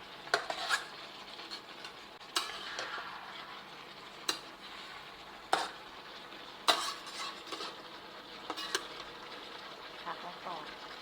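Asparagus and pork being stir-fried in a pan for a Thai dish, with repeated sharp clanks of a utensil against the pan over a steady sizzle, while a voice talks in places.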